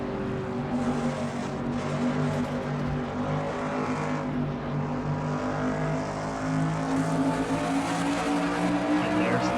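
Race cars roaring around the track in a NASCAR racing video game, a dense continuous engine drone with layered overlapping revving tones, loud and close throughout with no talk.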